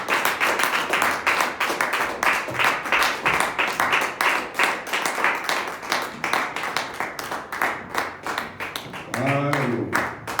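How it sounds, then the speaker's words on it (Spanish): Congregation clapping steadily during a Wednesday evening church service, a long run of dense rhythmic claps with a voice rising near the end. "Dar un aplauso al Señor."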